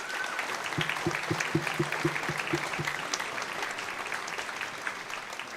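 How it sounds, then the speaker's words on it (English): An audience at a school spring concert claps warmly and steadily throughout, a dense patter of many hands at moderate distance, with a few faint voices mixed in. "let's have a round of applause for our parents"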